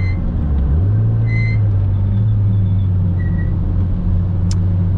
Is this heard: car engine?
yes